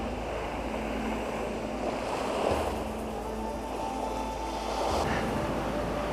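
Surf washing onto a Guam beach on the Pacific Ocean, a steady broadband roar of waves with gentle swells and some wind buffeting the microphone, no voices.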